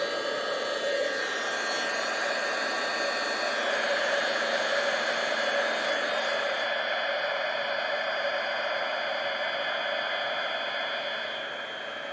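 A heat tool blowing on a craft card, giving a loud, steady, close whirring roar that holds for about twelve seconds before easing slightly at the end.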